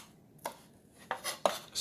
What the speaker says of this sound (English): Be careful when you're chopping